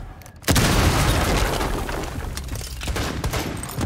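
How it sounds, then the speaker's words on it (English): A breaching charge blows a hatch in Rainbow Six Siege, landing as one sudden loud boom that opens into a long rumbling blast with debris and crackling fading slowly. "I'm gonna breach the hatch."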